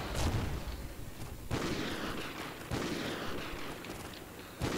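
Remote sniper rifle shots in Call of Duty: Ghosts, a series of about four heavy booming reports spaced roughly a second apart, each trailing into a rumbling battlefield wash.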